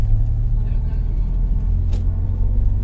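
A car's engine drones and rumbles steadily from inside the cabin while the driver presses back onto the accelerator, a loud, low, continuous sound with no talking.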